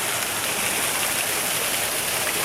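A Southern Indiana waterfall running low, its steady broadband rush of falling water close by and continuous, with no voices.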